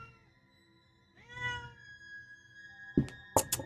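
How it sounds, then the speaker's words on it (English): A house cat gives a drawn-out meow followed by a couple of short, sharper meows near the microphone, over a faint steady electronic hum, with no talk. "Oh, my cat's here."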